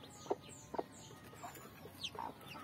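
Newly hatched native chicks, too weak to walk yet, give a few soft, brief peeps and clucks spaced apart, close by over a quiet background.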